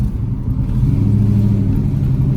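A deep, loud tuned 450 hp LS V8 truck engine rumbles close by on a street, holding a heavy low throb that swells slightly as it revs during pulls.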